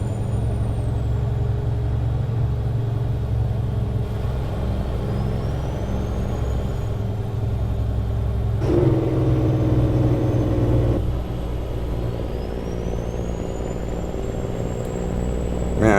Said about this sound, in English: Man, I gotta say, I love the engine brake.